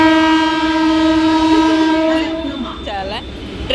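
A passing train sounds a loud, sustained horn up close for about two seconds, then rumbles on with rolling noise while voices chatter over it.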